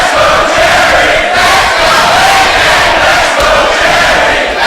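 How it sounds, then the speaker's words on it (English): Dense, loud crowd roars and cheers without pause at a 2006 1PW professional wrestling show, with shouts rising above the constant din. "Listen to this crowd once again, Joe Dombrowski."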